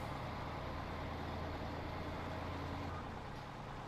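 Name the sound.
truck driving in Farming Simulator 15 video game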